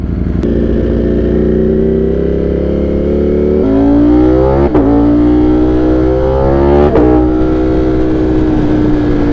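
A loud car engine on a new set of tires revs steadily on the road and climbs in pitch, with gear changes and renewed acceleration, close by and continuous.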